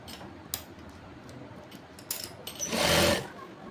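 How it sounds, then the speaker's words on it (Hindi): A domestic sewing machine stitches Bermuda shorts in a short buzzing run toward the end, with faint clicks and handling noise before it. "इस तरह से सिलाई करके अब हम फिटिंग ले लेंगे।"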